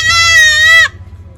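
A goat gives one long, loud, wavering bleat up close on a farm, ending abruptly, with a low steady hum beneath.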